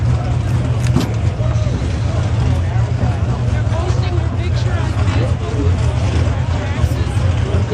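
Pro Stock drag cars at the NHRA New England Nationals in Epping, New Hampshire, a constant heavy engine drone with crowd noise, steady and fairly loud beneath an announcer talking throughout.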